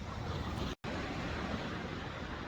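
Irregular ocean waves driven by a huge fetch wash onto an Icelandic beach, a steady loud roar of surf mixed with wind buffeting the microphone and one brief dropout.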